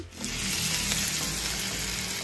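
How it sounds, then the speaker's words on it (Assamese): Shewali flower leaves fry in hot oil in a pan with a steady, dense sizzle and crackle that holds throughout, loud and close. "শেৱালি ফুলৰ পাতটো ভাজি এই টেৱাখনত দি দিছোঁ তেলত"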